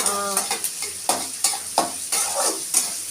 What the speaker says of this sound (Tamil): கடலைப்பருப்பெல்லாம் முன்னாடியே போடுறதால கொஞ்சம் வெந்துட்டு நிறம் மாறி வச்சுக்கோங்க.